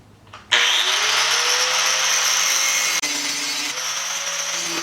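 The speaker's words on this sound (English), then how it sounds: "Let's maybe put a grinder disc on this one." An angle grinder with a grinding disc spins up abruptly and grinds steadily on the front bumper of a Jeep XJ, a loud continuous high whine with a brief dip partway through.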